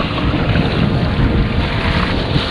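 Strong wind roars steadily across open, rough sea around a Hobie Tandem kayak, a loud, constant buffeting rush with no voices.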